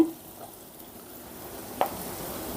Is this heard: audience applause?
no